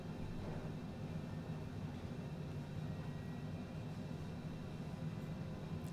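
Cessna Citation jet engines idling steadily after start-up in Microsoft Flight Simulator, a constant low droning rumble with an even hum that holds at one level throughout, with no voices.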